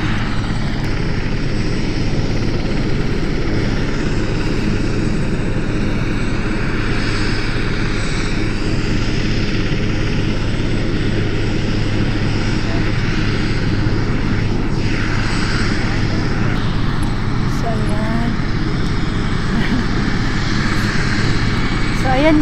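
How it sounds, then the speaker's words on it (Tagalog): A helicopter passes over a park, its steady engine and rotor roar loud and unbroken throughout, with a person talking faintly underneath. "may nakita akong helicopter."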